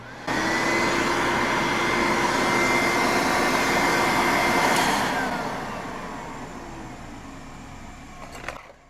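A 1970s Brother vacuum cleaner with slightly dry bearings runs close by, a loud steady whining drone that holds for several seconds, then drops slightly in pitch and level before a brief click near the end.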